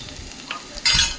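Onions browning over a medium flame for a spicy eggplant dish, with a low sizzle and a few faint taps, then one louder scrape of stirring near the end, close by and without speech.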